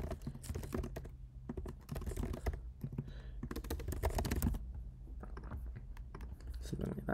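Fast typing on a computer keyboard during a timed coding contest, dense bursts of close clicky keystrokes with brief pauses between runs.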